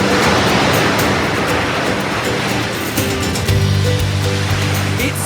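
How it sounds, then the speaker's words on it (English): Gentle ocean surf on a Channel Islands beach, a steady broadband wash of small waves rolling in, loud and continuous with a slightly heavier surge near the end. "It's just possible to ride these gentle waves."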